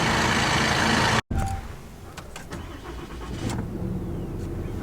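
A three-year-old, nearly new truck's engine cranks and fires after a jump start with jumper cables, a brief dropout then a steady idle rumble with a few clicks, loud and close with no talking.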